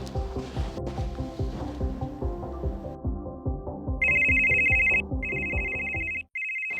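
An electronic phone ringtone trills in repeated bursts over a busy, rhythmic background, then cuts off near the end.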